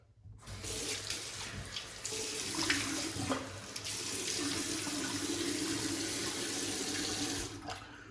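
Tap water runs into a sink for wetting the face before shaving, a steady close splashing rush that swells slightly mid-way and cuts off at the end.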